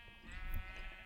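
Sheep bleating in the Minecraft survival world, a single wavering bleat heard fairly close over a steady background, with no talking.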